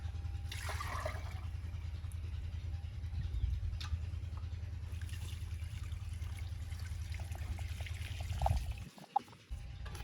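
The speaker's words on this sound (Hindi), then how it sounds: "इसमें पानी भी डाल दिया जाएगा।" Water is poured into a pot of mustard and bathua greens for saag, a faint steady trickle over a low background rumble, with no one talking.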